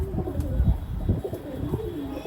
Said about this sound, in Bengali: ওই দুটো কবুতর ছাড়ছি